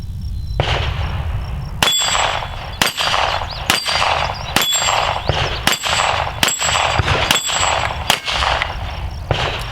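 Smith and Wesson Model 41 pistol firing about eight sharp, loud shots at a steady, slightly uneven pace, each with a ringing metallic clang, no talking.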